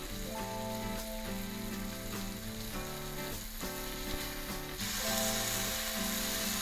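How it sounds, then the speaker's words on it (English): A steak sears on a hot steel plancha, giving a steady, loud sizzle and crackle that runs unbroken throughout, with constant tonal hum beneath and a brighter burst of spitting toward the end. "it gives you an opportunity to hear that lovely sizzle"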